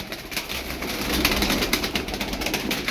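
Tumbler pigeons coo softly in a loft, low repeated murmuring calls over a rustling, noisy background, with no talk.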